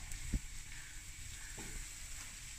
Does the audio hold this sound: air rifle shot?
no